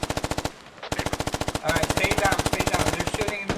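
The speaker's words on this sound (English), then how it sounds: "And shots being fired." Rapid automatic gunfire in the SquadOps video game, two long bursts of evenly spaced shots, loud and close, separated by a brief pause.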